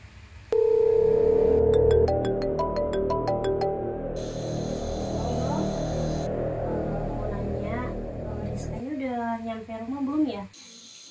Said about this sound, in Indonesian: Coba deh aku telepon orang tuanya